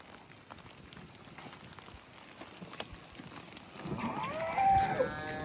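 A Cholistani cow on a Pakistani dairy farm gives a single loud, drawn-out moo near the end, rising out of a low, steady outdoor background.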